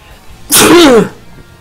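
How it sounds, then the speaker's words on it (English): A single loud, close sneeze, sharp and brief, with quiet before and after. "yes, that sneeze"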